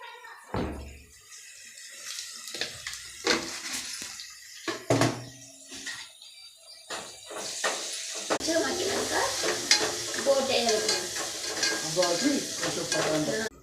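Onions and a few cloves frying in a pan for a Sunday offal curry, with sparse clinks and stirring at first, then a louder, denser sizzle building through the second half, with no talk.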